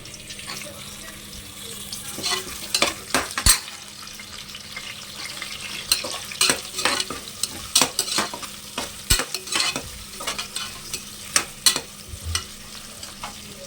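Onion and curry leaves fry in a pan for a tomato bath, with a low sizzle under repeated sharp scrapes and clanks of a spoon stirring, irregular and close.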